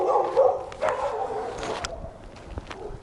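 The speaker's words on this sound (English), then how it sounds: "angry dogs." Several angry dogs in Cáceres, Brazil, bark and yip at a distance, irregular overlapping barks with whining tones, moderately faint against outdoor background noise.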